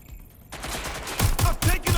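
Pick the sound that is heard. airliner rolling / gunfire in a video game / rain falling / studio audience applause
gunfire in a video game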